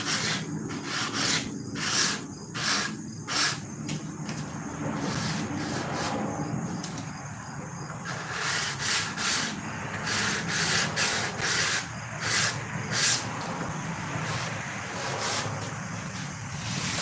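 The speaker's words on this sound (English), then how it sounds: "Do a little detail sanding." Rhythmic scratchy rubbing of sandpaper on wood, repeated short strokes in bursts over a low background hum, close and fairly loud.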